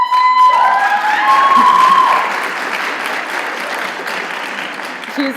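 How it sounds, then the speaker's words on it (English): A school fundraiser crowd claps loudly and cheers. A voice rises over the applause at the start, then the clapping carries on at an even level until the clip ends. "We have a great contingency here from the class of 96, which is why you have all the cheering"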